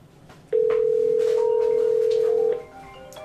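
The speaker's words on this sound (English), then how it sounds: "I'm going to call my cell phone here." An outbound call placed through a FreePBX phone system to a cell phone gives a single steady ringback tone lasting about two seconds, loud and clean over faint background noise, with no talk.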